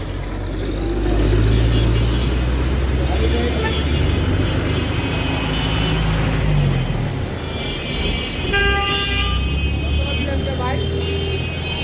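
Heavy gridlocked traffic in Mirpur 1, Dhaka: a dense, steady rumble of idling buses, trucks and cars with hissing air brakes and honking, and voices talking through it close by.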